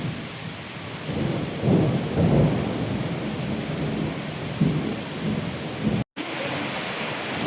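Heavy summer rain in Kerala roars steadily, with several deep thunder rumbles rolling through it; loud and continuous, no voices.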